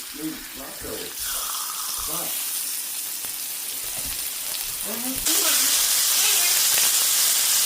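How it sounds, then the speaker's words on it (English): A marinated, patted-dry steak is laid into hot, smoking avocado oil in a pan. A loud hiss builds and then jumps to a fierce, steady sizzle partway through, while a person talks over the early part. "I'm going to put my steak, which I have marinated and patted dry, into the pan."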